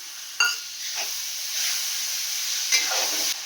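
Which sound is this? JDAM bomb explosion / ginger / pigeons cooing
ginger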